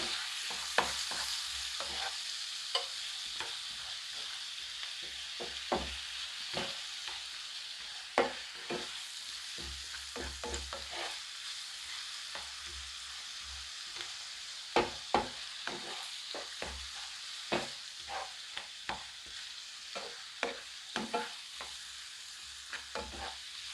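Chopped tomatoes for a vegetable curry sizzle steadily in a pan, with a constant frying hiss and scattered sharp pops and spoon scrapes, close and continuous, with no voices.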